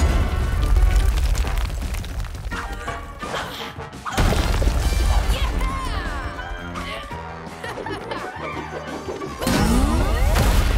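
Loud cartoon-style blast effects with booming impacts and crashing hits, layered with swooping musical tones and bursts of energy, continuous and dense throughout.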